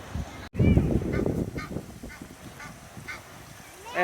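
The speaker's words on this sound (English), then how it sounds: "And we got the call of Texas out of this duck." A duck honking a few times in San Antonio gardens at night, loud and close at first, then repeated calls over a murmur of background noise.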